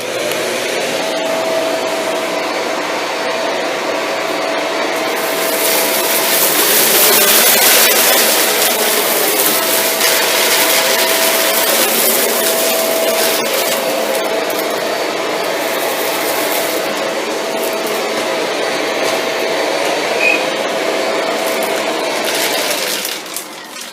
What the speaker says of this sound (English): The vacuum will have the brush bar off. That means it's in hard floor mode.